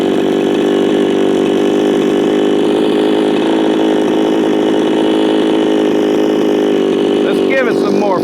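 A Shindaiwa 492 / Echo chainsaw engine runs steadily near at hand, a loud buzzing drone with a constant rough pitch throughout, briefly disturbed near the end.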